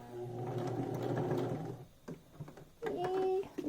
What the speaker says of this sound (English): maybe I'll back stitch a little bit just to secure that